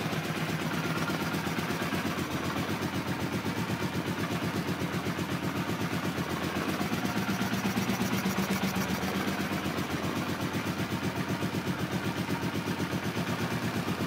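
A 1982 Honda CX500 motorcycle engine idles steadily at about 800 RPM, a low, even, rapid pulsing throb held close and alone for the whole stretch.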